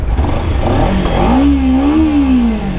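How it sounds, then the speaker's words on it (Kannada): Close, loud exhaust note of a 2023 Kawasaki Ninja 300 motorcycle that climbs in a short rev and eases back down, with a rumbling low drone throughout. "ಎಕ್ಸಾಸ್ಟ್ ಈ ಥರ ಕೇಳಿಸುತ್ತೆ"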